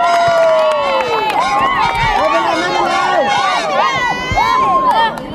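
The pink team's cheering squad at a school camp sports day shouts and chants together, a loud, lively mass of young voices with rising and falling calls that is close and continuous.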